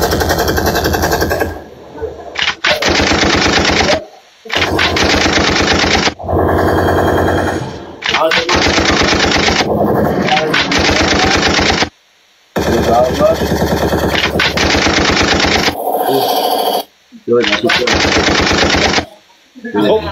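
Video game gunfire in long, loud automatic machine-gun bursts, separated by short gaps, with players chattering over the shooting.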